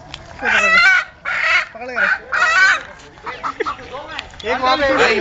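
Chickens squawk and cluck in loud bursts close by, with a rooster among them, while people talk over the commotion.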